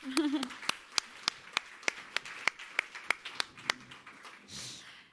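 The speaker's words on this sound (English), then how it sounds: "We'll give you a round of applause" Sharp, evenly spaced claps ring out one after another, about a dozen in a steady rhythm, fairly close, with a faint murmur of voices underneath.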